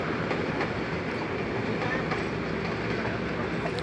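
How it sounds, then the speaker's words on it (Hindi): A train runs through a valley, a steady continuous rumble of wheels and carriages filling the whole stretch at even loudness, heard from a distance with faint clatter. "ये ट्रेन जा रही है नीचे।"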